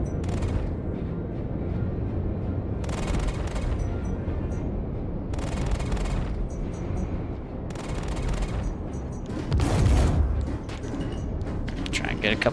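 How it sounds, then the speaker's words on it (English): Ship cannon fire from the space game Star Citizen, heavy repeated booming bursts in rapid volleys that run almost continuously over a rumbling engine bed, with someone talking over the gunfire. "I do not like cannons. Definitely do not like cannons."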